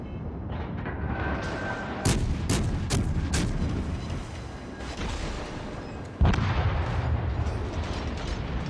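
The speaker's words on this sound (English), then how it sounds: "Another round of torpedoes from one of my teammates to finish him off." Torpedo hits exploding against a battleship in World of Warships Legends, a naval strategy game on Xbox and PS4: heavy booming blasts with sharp cracking bursts over a constant low rumble, including a big impact near the end.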